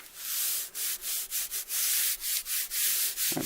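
Plain cotton fabric with a moire look being rubbed down by hand onto glue, a run of dry, brushy strokes close up, steady and rhythmic with short pauses between passes, no voices.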